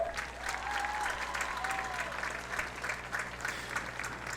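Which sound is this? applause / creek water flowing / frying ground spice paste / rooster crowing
applause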